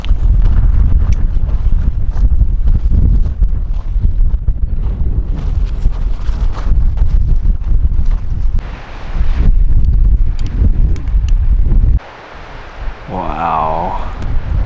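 Strong gusty wind buffets the microphone at a trail campsite, a continuous loud roar that swells and eases throughout, briefly dropping near the end, while a voice speaks over it.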